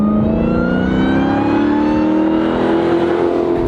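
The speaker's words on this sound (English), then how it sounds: "All right, we got Trish out here doing the heel toe downshift, and I think you can hear from the engine that she's doing it correctly." A car engine on a race track at a driving school climbs in a loud, close, continuous rev as the driver works a heel-toe downshift, its pitch rising steadily with no talking over it.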